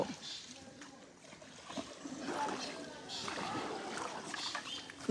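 Small boat carrying two people in floodwater at Laksam Manoharganj, with gentle splashing and water sloshing against the hull as voices talk nearby.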